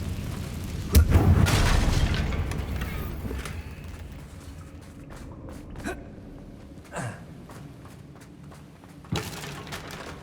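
A Confringo spell in Hogwarts Legacy bursts with a loud, deep boom that rumbles and fades over several seconds, followed later by a few fainter thuds and swishes.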